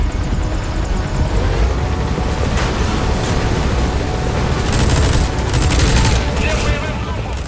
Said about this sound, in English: we'll use the helicopter's minigun to take out enemies